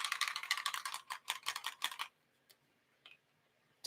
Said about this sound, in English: So I like to use the Dina Wakley gloss spray